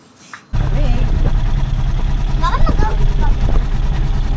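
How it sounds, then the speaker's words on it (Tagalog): A Rusi Chariot 175 motorcycle engine, warmed up after a week unstarted, idling with a steady low rumble that begins abruptly and runs throughout, with people talking over it. "naminit na rin yung makina"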